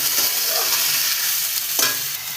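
Bottle gourd pieces hitting hot mustard oil with cumin seeds and spices, a steady broadband sizzle and crackle with a stirring scrape near the end, close and continuous, no talking.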